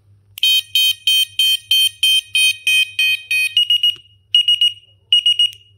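A loud, piercing electronic bicycle bell alarm beeps in a rapid steady series, then switches to a few longer, separated bursts of a single high tone.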